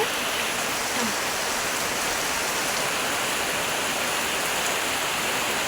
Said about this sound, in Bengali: কীরকমভাবে বৃষ্টি হচ্ছে দেখো